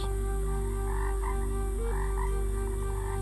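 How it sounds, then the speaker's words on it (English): A frog croaks repeatedly in a steady, rhythmic pulse by a creek, close and clear over a constant background hum. "Did you hear that frog?"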